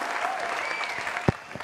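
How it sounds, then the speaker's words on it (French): Studio audience applauding a singer on a TV talk show, a steady wash of clapping throughout with one sharp, loud clap near the end; a voice speaks faintly underneath. "On applaudit encore pour lui."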